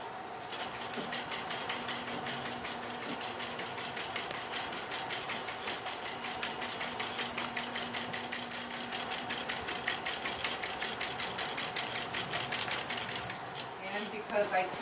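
Quilting machine basting a quilt, running with a fast, even mechanical chatter of stitches that holds steadily for about thirteen seconds before stopping, fairly close and clear.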